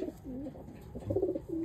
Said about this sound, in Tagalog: ito yung ibon